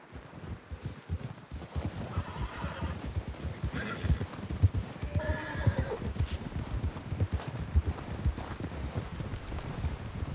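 In the video game Red Dead Redemption 2, several horses neigh and whinny while hooves clip-clop steadily on the ground, with a light wind-like background throughout.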